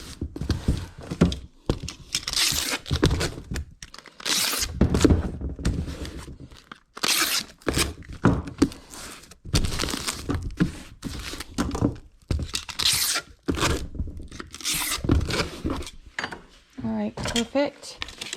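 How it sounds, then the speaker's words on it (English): Packing tape is pulled and pressed onto a cardboard shipping box in a series of sharp ripping screeches and thumps, close and loud, with a person talking between strips. "And we'll get this guy all taped up."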